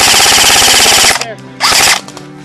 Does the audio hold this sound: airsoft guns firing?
yes